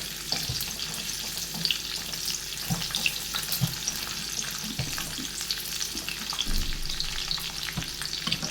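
Two small sliced onions sizzle and crackle in a hot pan for an Afghani egg curry, a steady close frying hiss with occasional stirring scrapes and pops throughout.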